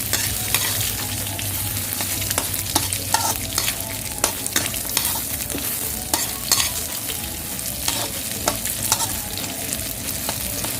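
Rice stir-fried with shallots for egg fried rice crackles loudly in a hot pan, a dense sizzle punctuated by rapid, repeated scrapes and clacks of a spatula tossing the rice, close up and without talk.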